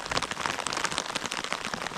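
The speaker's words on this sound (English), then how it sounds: "It's raining outside." Rain drumming steadily on a tent during a wild camp, a dense, even patter close overhead with no voices.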